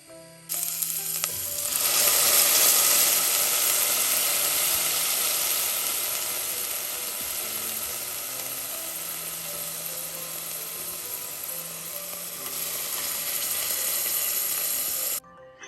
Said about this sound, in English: Add the oil, garlic and onions in the pot and let it fry for 2 minutes on a low heat